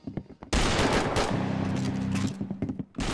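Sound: gunfire in Roblox Arsenal video game

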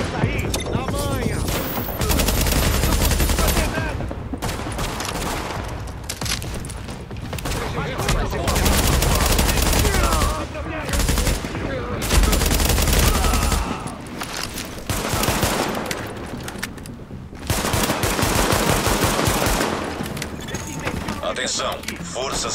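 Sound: gunfire in video game The Division

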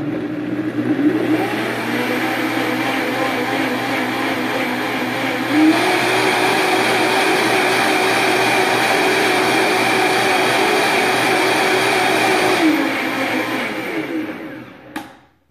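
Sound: blender mixing soy sauce and garlic sauce

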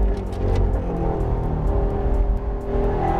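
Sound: sports car engine at high revs

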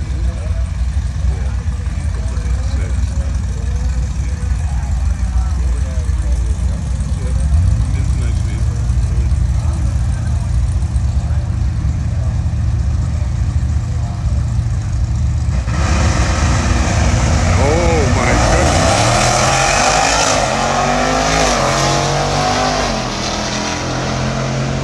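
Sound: Dodge Durango engine during drag strip run

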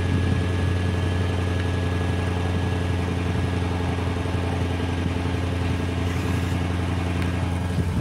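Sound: Lexus GS430 3UZ-FE V8 idling cold, modified exhaust

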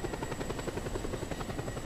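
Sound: aircraft rotor in video game Just Cause 2

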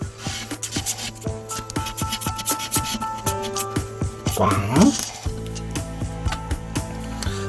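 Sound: scratching a Speetto 2000 lottery scratch card

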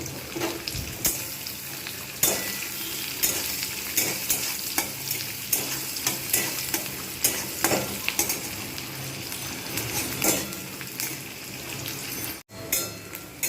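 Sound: onions frying in oil

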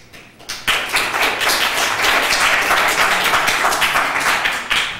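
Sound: audience clapping at a meeting

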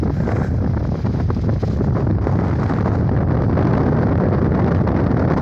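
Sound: strong wind on a car roof

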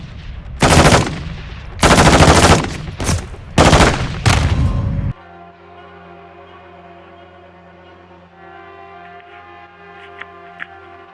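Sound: gunfire in Call of Duty: Modern Warfare video game

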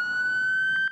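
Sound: ambulance siren near hospitals

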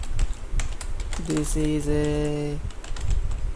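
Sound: typing a Java code comment on a computer keyboard

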